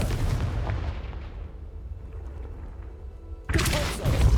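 A Confringo spell blast from the video game Hogwarts Legacy bursts with a heavy boom that fades out over about three seconds, then a second loud blast cuts in abruptly near the end.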